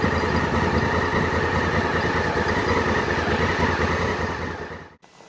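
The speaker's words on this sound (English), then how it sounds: "Feather out that clutch, give it a little bit of gas, find that engagement point, and keep it under control" An adventure motorcycle engine runs with a rough, throbbing mid-range note, loud and close, as the rider slips the clutch with light throttle, then cuts off abruptly at the end.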